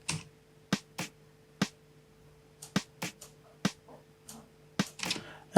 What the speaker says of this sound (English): I added some snares.